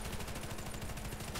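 Rapid automatic gunfire from the Warface zombie mode rattles in a fast, even stream of shots, loud and close, with no talk over it.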